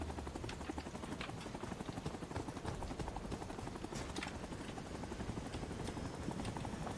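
Helicopter rotor and engine in a video game throb in a fast, continuous chopping drone that stays steady and fairly loud throughout, with faint clicks and thumps scattered over it.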